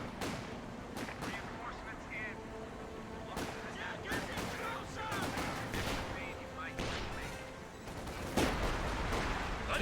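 Concentrated barrage artillery fire lands in a Company of Heroes 2 match, heard as repeated sharp impacts and bursts spread across the clip under busy battle noise, with a voice talking over it.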